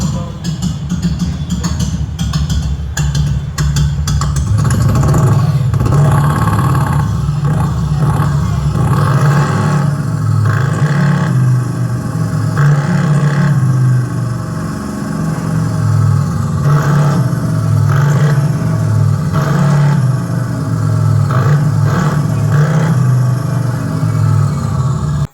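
A Komaki Ranger electric motorcycle plays a simulated engine note through a built-in Bluetooth speaker, a loud, steady idle-like drone with revving swells, while someone talks over it.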